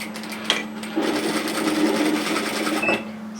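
A sewing machine stitches a strap onto an apron, a steady close motor whir with rapid needle clatter running for a few seconds after a brief handling click.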